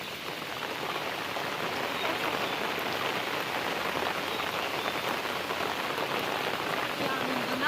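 Heavy rain pours down steadily in a dense, even hiss, close and loud, with no talking.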